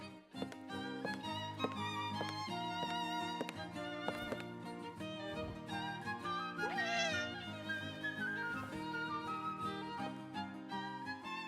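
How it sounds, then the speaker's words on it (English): A cat meows in the Blue Protocol video game, a rising-falling meow emerging mid-way through dense, steady game music that plays throughout. "I heard there's a rather special cat here."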